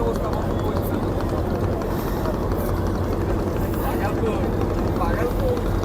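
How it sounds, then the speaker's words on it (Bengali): Passenger launch pulling away from Sadarghat in Dhaka, a steady loud engine drone and rushing water mixed with the hubbub of a crowded terminal, continuous throughout. "সদরঘাট থেকে আমাদের লঞ্চ ছেড়ে যাচ্ছে"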